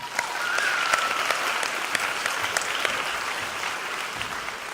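Audience applauding the graduating class at a high school commencement, a sustained, moderately loud crowd clapping with scattered sharper claps and a brief whistle early on.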